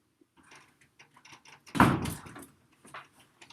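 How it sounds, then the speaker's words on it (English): A door slams shut indoors with one loud, sharp bang, surrounded by quieter room noise and small handling sounds. "don't slam your door"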